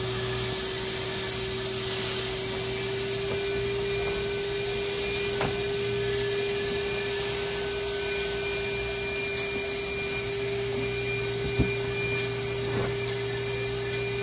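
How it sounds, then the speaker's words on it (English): A vacuum seed planter machine draws up yellow onion seeds with a steady, high-pitched whine and hum, constant throughout with a few faint clicks and knocks. "this machine has a vacuum in it, so it'll suck all the seeds up to perfectly put into our flats"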